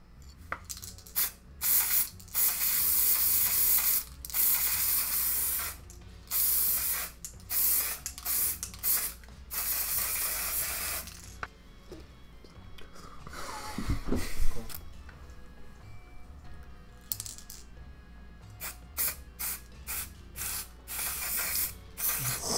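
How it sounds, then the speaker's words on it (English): A spray bottle on a misting setting sprays setting spray onto a face during Halloween makeup, several hissing bursts of varying length, loud and close, with a clatter of handling noise in the middle. "I'm going to give myself a little spray."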